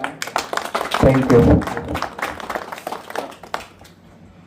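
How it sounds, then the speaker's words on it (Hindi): Audience clapping breaks out at a regional travellers' gathering in Panna, a dense burst of applause near the middle, with a speaker's voice before and after it and a brief thank-you spoken over it. "आप लोगों से सबसे आग्रह करूँगा कि उनके लिए दिल से ताली बजाएं"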